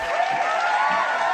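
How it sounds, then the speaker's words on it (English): Brief burst of audience applause and crowd noise greeting a guest on a talk show, a short dense wash of clapping. "Let's give a big round of applause to Emmanuel"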